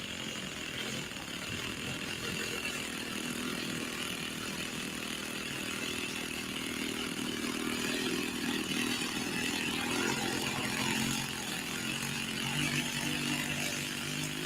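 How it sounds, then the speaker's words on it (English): A small two-stroke RC model airplane engine drones steadily and loudly throughout, a continuous high buzzing whine with slight shifts in pitch and no talking. "These engines always sound nice"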